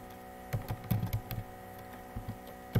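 Keys on a computer keyboard are typed in short clusters, a few close, quiet clicks with pauses between them, as commands are entered for Neo4j.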